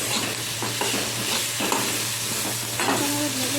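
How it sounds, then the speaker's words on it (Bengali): Potatoes fry with chili and turmeric powder in a pan, a steady crackling sizzle close by, broken up by repeated spatula stirs and scrapes. "হলুদের গুঁড়ো আর লঙ্কাটা দিয়ে ভালো করে নেড়ে দিয়ে আলুটাকে ভেজে নিলাম।"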